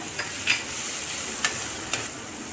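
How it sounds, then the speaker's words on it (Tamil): Steady sizzling of turmeric and chili powder frying in a pan for semiya kichadi, with a few soft clinks of a spoon stirring at irregular moments. "ஆட் பண்ணி நல்லா வதக்கிக்கோங்க"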